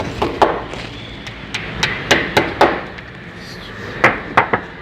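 A hammer drives wall anchors into a wall in short, uneven bursts, about a dozen sharp knocks against a hard surface at close range.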